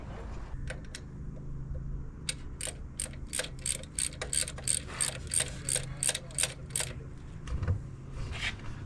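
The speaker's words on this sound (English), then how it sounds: "Ratchet fits right in there. Perfect. Get it nice, tight." A ratchet tightens the nut on a Honda engine mount, clicking in a quick regular run of about fifteen sharp pawl ticks, close and fairly quiet, with faint metallic handling around them.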